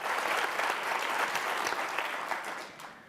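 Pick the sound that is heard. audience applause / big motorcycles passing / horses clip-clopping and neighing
audience applause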